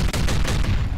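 A pistol gunshot in the shooter game Hellscreen, a single loud, close report with a short booming tail inside a busy game soundscape.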